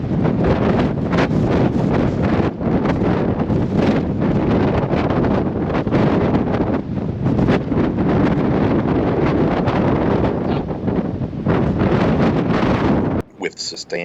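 Strong windstorm gusts with sustained winds around 45 mph roar steadily across an open field, a loud, continuous buffeting rush against the microphone that barely lets up for the whole stretch.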